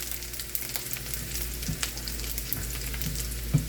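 Three cloves and two cinnamon pieces sizzle in hot oil for an Indian apple curry, a steady close frying hiss with scattered sharp pops over a low background hum.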